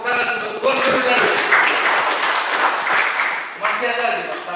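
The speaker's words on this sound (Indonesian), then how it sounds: "Tepuk tangan untuk tuan guru tadi." Applause at a KPN University gathering for a man just named tuan guru (teacher): dense, steady crowd clapping that fills the whole stretch, with a voice speaking over it.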